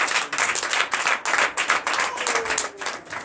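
Church congregation at a Sunday worship service clapping together in dense, rhythmic bursts with some cheering, steady and fairly loud throughout.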